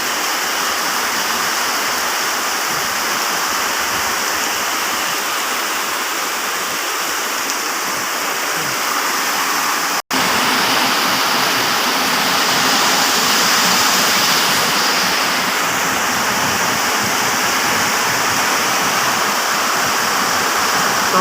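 Heavy rain pours down in a stormy, flood-prone riverside setting, a loud unbroken hiss that fills the whole time, dense and steady with no letup and no voices over it.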